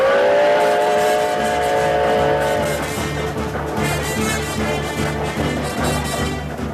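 Steam locomotive running fast as a radio drama sound effect, a continuous loud chugging roar with a whistle-like tonal wail in the first few seconds, then dense rushing mechanical noise.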